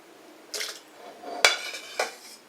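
Homemade soup ladled into a glass blender jug: a few soft clinks and knocks of the ladle against glass, with faint liquid pouring between them, close and fairly quiet.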